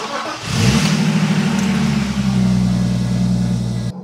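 A BMW E36 engine in rough shape, with worn piston rings, idles steadily after starting, its deep rumbling drone loud and close throughout, rising slightly in pitch as it revs before cutting off at the end.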